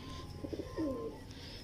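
Fancy dub pigeons coo nearby, a few soft throaty pulses followed by one longer rolling coo, gentle and close against a quiet background.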